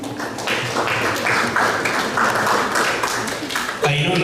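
Applause at a teens' training event in a Kampala hotel hall comes as a steady roll of many hands clapping, fairly close and sustained, with voices overlapping it near the end.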